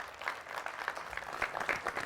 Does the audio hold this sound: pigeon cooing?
no